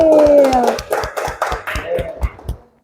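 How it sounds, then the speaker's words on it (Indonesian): A seated audience claps for a group that has just performed, a brief round of scattered, uneven hand claps that thins out and fades to silence within a few seconds. "Berikan tepuk tangan yang sudah tampil"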